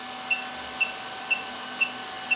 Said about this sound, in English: this CraftBot 3D printer is printing this item